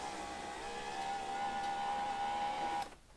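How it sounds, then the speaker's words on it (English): Power window motor in a Jeep Cherokee XJ driving the glass, a steady close electric whine holding an even pitch for nearly three seconds, then cutting off abruptly into quiet. "you want to go ahead and run your window up and down a couple of times"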